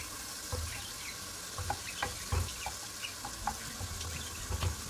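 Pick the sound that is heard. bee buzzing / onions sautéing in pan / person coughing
onions sautéing in pan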